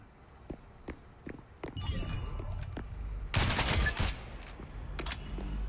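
In the shooter game Spectre Divide, rapid gunfire crackles in bursts with sharp single shots and footsteps. A dense volley swells midway through, and quiet player chatter runs underneath.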